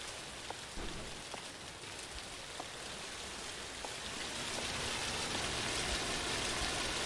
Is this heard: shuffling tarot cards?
no